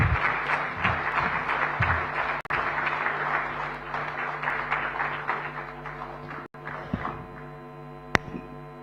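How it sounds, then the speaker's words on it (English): Audience applause welcoming Maharashtra Chief Minister Devendra Fadnavis at an Indo-American Chamber of Commerce national convention, a steady dense clapping that carries on for several seconds before thinning out, with scattered hum and a sharp tap near the end. "please let's welcome with a resounding round of applause"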